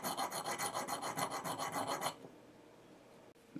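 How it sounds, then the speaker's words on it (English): Metal file rasping on the lock of a CRKT M21-4 folding knife to remove a burr, a steady rhythm of about a dozen quick close strokes that stops partway, followed by quiet room tone and a faint click. "So the file comes into play."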